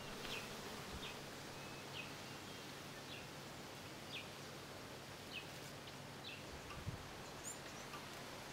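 Bees buzz around a beehive in a baobab tree outdoors, a steady dense hum with individual insects passing close, faint and even throughout.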